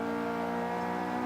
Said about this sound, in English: So I try to keep the engine revved up as high as I can